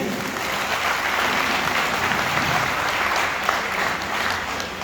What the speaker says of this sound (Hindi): तो दोस्तों, एक ताली भगवान के लिए बजा दीजिए